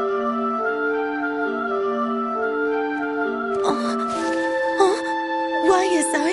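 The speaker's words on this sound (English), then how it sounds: "This is the sound of Radames' flute" A flute melody in an animated Aida opera plays clear sustained tones stepping through a simple tune; partway through, voices speak over the continuing notes, and the instrument's pitch wavers toward the end.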